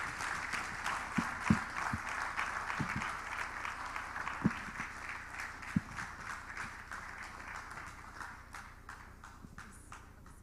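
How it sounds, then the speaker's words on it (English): An audience applauds at a journalism innovation and development event, a soft, distant patter of clapping that carries on throughout, with a few louder individual claps near the start before it thins out toward the end. "Please, once again, a round of applause for Richard."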